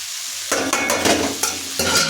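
Roasted semolina, peanuts, chopped chilli and tempering being stirred in a hot pan, a close sizzling fry broken by repeated scraping stirs, loud and steady with no voices.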